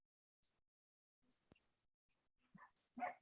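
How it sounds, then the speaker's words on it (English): A small chihuahua yaps in short, sharp barks at a distance. The barks come in scattered bursts that grow louder toward the end, with a brief click and a pause between them. "I just hear a barking dog, a little one. It's a little chihuahua"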